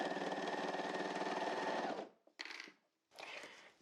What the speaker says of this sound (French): Je peux coudre.